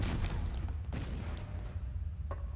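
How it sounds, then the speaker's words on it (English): A grenade launcher fires in Alien: Resurrection on PS1, with heavy rumbling booms and a sharp burst near the start, then another short blast near the end, all loud and close. "Might actually try with our new funky grenade launcher."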